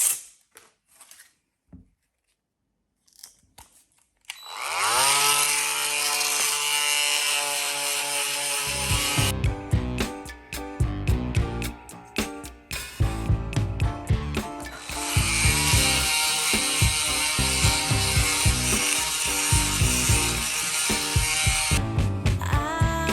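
A 3D printed plastic part is hand sanded with coarse 80-grit sandpaper. Close, dry scraping starts after a brief quiet opening, then settles into steady rhythmic back-and-forth strokes.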